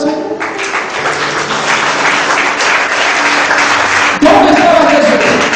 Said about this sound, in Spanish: ¿Es un fuerte aplauso al Señor?